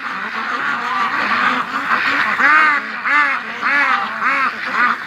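Stressed ducks quack loudly and close by in a rapid, repeated chorus of overlapping calls that continues without a break.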